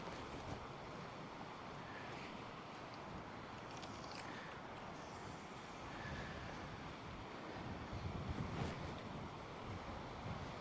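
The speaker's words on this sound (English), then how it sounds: "the wind I'm finding extremely annoying" Steady wind buffets the microphone on a shoreline during a fishing trip, with waves and surf rushing underneath in a continuous, fairly loud roar that swells slightly near the end.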